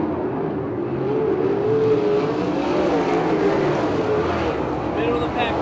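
Open 360/410 sprint cars race around the Victorville Raceway Park oval, their engines a loud, steady roar that rises and falls slightly as the pack circulates, with a commentator talking over it.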